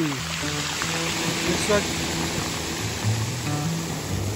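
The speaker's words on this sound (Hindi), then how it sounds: "बहुत ही खतरनाक किस्म की लहरें आ रही हैं जी" Strong, dangerous-looking ocean waves surge at Bimmah Beach in Oman at night, a continuous loud roar of surf and wash close by, with someone speaking over the crashing water.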